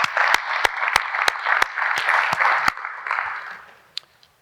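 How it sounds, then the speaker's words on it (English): An audience at a SECO Energy district meeting claps in steady applause with several sharp, loud individual claps standing out, the clapping fading to scattered last claps near the end. "let's give him another round of applause if you don't mind"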